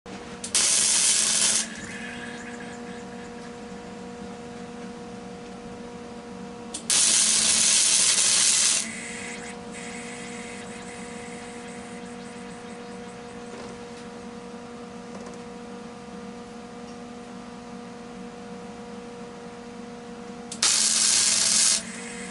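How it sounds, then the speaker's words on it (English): Three bursts of harsh, crackling tack-welding noise on a 110cc ATV, each lasting a second or two, separated by long stretches of steady mechanical hum. "So I threw 3 tack welds on that."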